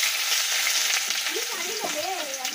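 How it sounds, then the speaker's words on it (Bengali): Eggs fry in a pan with a loud, steady hiss that runs throughout, while a voice wavers faintly underneath near the end. "ছেলে আর বরের দুজনের ডিম এই যে ভাজা হলো"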